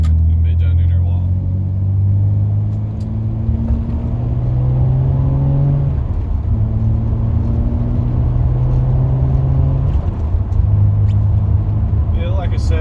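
A Nissan Skyline R33 GTS coupe driving, its engine a steady low drone that rises and falls smoothly through gear changes, close and continuous with a faint whir on top.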